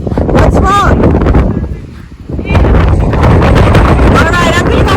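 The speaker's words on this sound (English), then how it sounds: "We're really not going to get away from the wind today" Strong outdoor wind buffets the microphone in loud, rough gusts that ease briefly in the middle before returning, while people talk over it.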